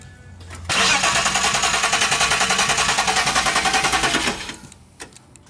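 A built BMW E36 engine cranks and catches, then runs rough for a few seconds with a loud, uneven pulsing chug close by before cutting off abruptly, with no voices over it.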